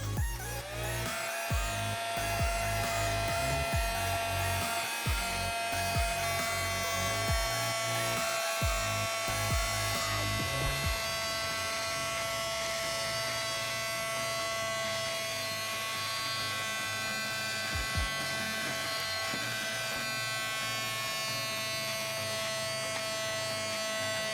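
A small vacuum runs continuously with a steady high-pitched motor whine, close and fairly loud; some knocking and bumping at the start, then it settles.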